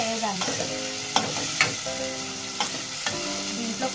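Tomatoes sizzle in a pan for chicken curry as a spoon stirs them, a soft frying hiss broken by several scraping knocks of the utensil against the pan.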